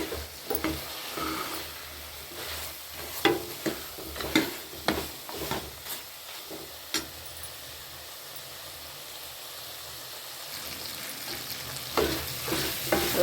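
Onions and coconut mixture are stirred and sautéed in oil for a Tamil mutton kulambu, with soft continuous sizzling broken by repeated scraping spoon strokes against the pan, close and fairly quiet.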